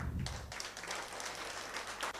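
An audience applauding in a hall, a faint steady patter of many hands clapping that carries on throughout without a break.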